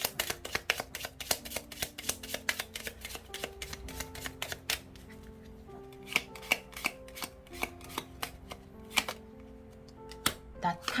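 Lenormand cards are shuffled and handled during a card reading, with crisp rapid riffling and sharp flicking clicks in an irregular stream. Someone talks throughout.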